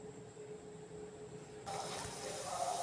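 Cooking oil poured into a frying pan for frying potato roll samosas, heard as a soft hissing, rushing pour that starts partway through and continues steadily and fairly close.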